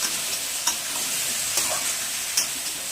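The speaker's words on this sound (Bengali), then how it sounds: "আলুগুলো কষিয়ে নেব।" Potatoes sauté with whole cumin and spices in a pan, giving a steady close sizzle and frying hiss with a few brief scraping stirs.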